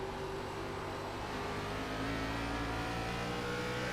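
ARCA series race cars on the Nashville Fairgrounds oval roar at full throttle, a dense, steady engine drone with layered harmonics holding loud and close for the whole stretch, no voices over it.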